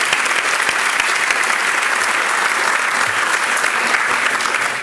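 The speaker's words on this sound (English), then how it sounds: "Let's give them one more big round of applause." An awards-night audience at the Athena Leadership Awards gives finalists a big round of applause, thick continuous clapping at a steady volume throughout.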